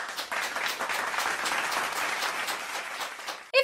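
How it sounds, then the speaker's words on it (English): An audience gives a round of applause, a steady, even patter of many hands at moderate level that stops abruptly just before the end. "Let's give him a round of applause"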